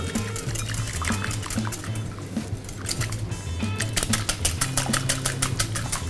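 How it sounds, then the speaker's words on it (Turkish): Two eggs being whisked in a bowl for fruit crepe batter, a rhythmic run of quick close-up tapping strokes that grows busier toward the end, over a steady bed of background music. "Ardından çırpma işlemine geçiyorum."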